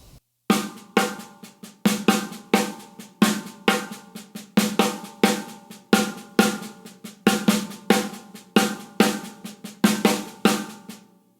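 A snare drum plays a double paradiddle: a steady, even pattern of crisp strokes grouped in repeating phrases, close and alone, with no talking.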